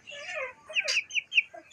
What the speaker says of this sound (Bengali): মুরগিগুলো দেখো